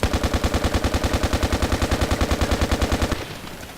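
An L85A2 rifle in the video game Battlefield Play4Free fires full-auto from the hip: a loud, rapid, even stream of shots for about three seconds, then stops abruptly, leaving a fading tail.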